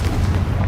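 A Confringo fire spell blasts in Hogwarts Legacy as a deep, rumbling explosive boom, loud and close, its low roar filling the brief moment without any voices.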